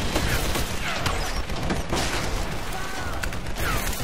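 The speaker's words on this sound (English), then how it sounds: "My God, what's with all the miniguns?" Minigun fire in the Tomb Raider video game makes a dense, continuous roar of rapid gunfire with booming, mechanical clatter. It stays loud and unbroken throughout, with no talk over it.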